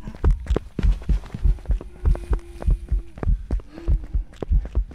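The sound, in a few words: heartbeat sound in a video game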